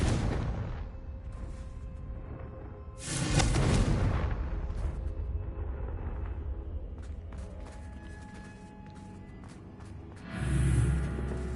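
Fiery Confringo spell blasts in Hogwarts Legacy, played on PS5, with two heavy booming bursts, one early and one near the end, over a continuous rumbling game soundscape with scattered crackles.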